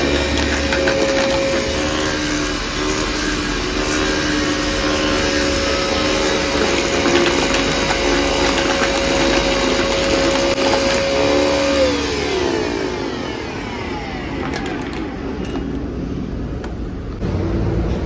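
Carpet washer motor running close by, a loud steady droning whir with a faint tonal hum that drops away toward the end, no talk.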